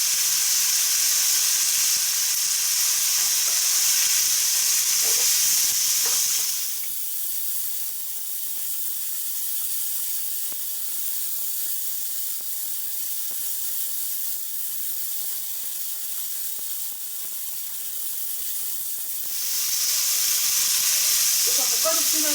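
Drained potatoes going into a pan of stir-fried garlic and bacon, a loud hissing sizzle that eases to a quieter fry for most of the stretch and then swells again near the end.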